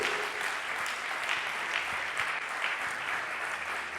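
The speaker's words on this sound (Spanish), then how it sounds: "Vamos a darle fuerte ese aplauso." Steady, dense applause from a church congregation at a sermon, sustained and fairly loud throughout with no pauses.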